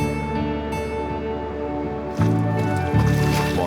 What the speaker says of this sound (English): What with the bubbling mud